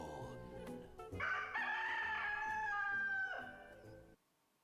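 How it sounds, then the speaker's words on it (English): A rooster crows in a long, stretched cock-a-doodle-doo over a game's background music, loud and close, then the sound cuts off. "Random rooster noises from a penguin"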